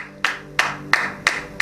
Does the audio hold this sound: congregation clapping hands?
yes